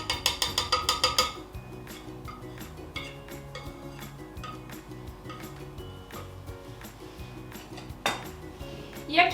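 A whisk attachment being taken off a stand mixer: a quick burst of rapid metallic rattling, then scattered light clinks and taps of metal on a bowl, with a louder clatter near the end, close by.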